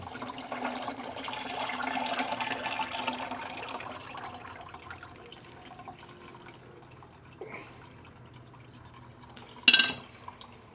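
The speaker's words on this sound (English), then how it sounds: "now we're going to take and pour the rest of this consommé in there" Beef birria consommé pours into a chinois strainer, a soft continuous liquid trickle and splash that thins out over several seconds, ending in a few brief clinks near the end.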